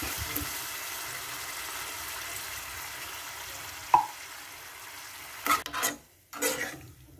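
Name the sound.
sautéing corned beef in a pan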